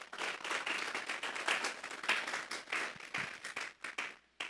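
A church congregation applauds the Lord during worship, a dense, steady wash of many hands clapping at once, loud and continuous, tapering off abruptly at the end.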